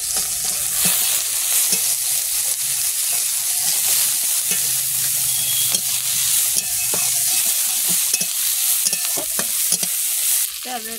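Chilies dropped into hot oil sizzle and fry loudly and continuously, a bright crackling hiss with occasional sharp pops and stirring scrapes, alone without talk.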